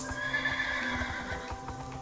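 Video game horse whinnying loudly up close, with clip-clop hoofbeats thudding in a steady rhythm underneath, during a betting horse race.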